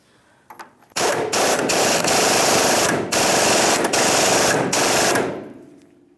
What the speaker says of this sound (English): Now we're going to tighten up that radius arm bushing nut.